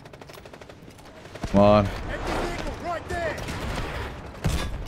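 G3 rifle gunfire in the video game Delta Force: a loud close burst of rapid shots cracks out midway, followed by another sharp report near the end, with someone talking over the action.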